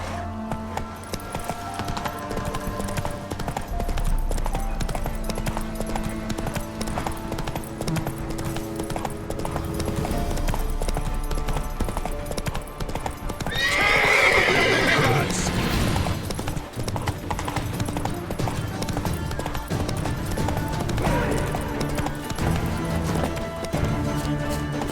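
Geralt's horse Roach galloping in Witcher 3, a steady clip-clop of hooves running under game music and loud combat noise, with a burst of clashing sound midway and talk over parts of it.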